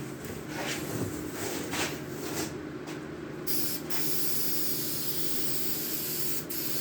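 Spray-on truck bed liner coating applied to a doghouse with a spray gun, heard as continuous hissing in several bursts with brief pauses between passes, fairly close and steady, with no voices.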